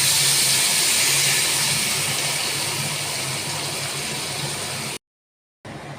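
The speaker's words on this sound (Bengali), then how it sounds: "দু পিঠ এরমভাবে ভাজা ভাজা হয়ে গেলে এবার ঝোলের জন্য জল দিয়ে দেবো।" Water poured into a hot pan of fried eggplant to make a Bengali oil-and-gravy curry gives a loud, steady sizzling hiss for about five seconds, then cuts to brief silence before the hiss resumes.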